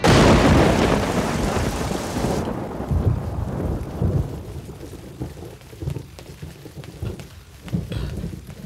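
A thunderstorm opens with a loud, broad rumble of thunder that fades into steady heavy rain pattering on surfaces, with further low rolling rumbles underneath.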